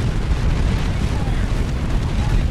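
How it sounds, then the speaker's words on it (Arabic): Continuous dense rumble of explosions from a battle in the mobile strategy game Art of War 3, loud and sustained with overlapping low booms and no clear gaps. "طبعا الخصم يتفجر تفجير."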